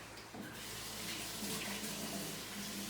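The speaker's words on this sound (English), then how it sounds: "Wash up your hands, keep them nice and clean." Steady stream of tap water running into a sink during handwashing in a home kitchen while baking coconut bakes, a continuous close hiss with no talking.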